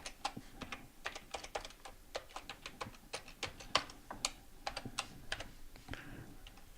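Quick, uneven typing on a computer keyboard while logging in to a web server, light key clicks in short bursts, fairly quiet and close, with no talking.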